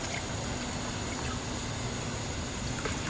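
Old coolant pours from the removed coolant reservoir of a Mazda RX7 during a coolant flush, a faint, steady liquid trickle and splash with nobody speaking.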